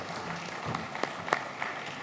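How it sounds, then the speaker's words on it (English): Conference audience at a London design finals event, clapping to greet a speaker coming up; faint, scattered claps over a low room murmur, a few sharper single claps standing out. "Let's welcome him with a round of applause."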